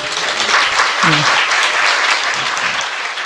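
Loud, continuous clapping from a large crowd fills the whole stretch, with a brief voice rising underneath near the middle.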